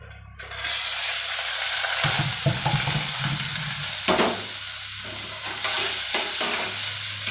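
Green chillies dropped into overheated oil for Maggi noodles burst into a loud, close hiss and crackle that holds steady, with spatters and stirring scrapes through it.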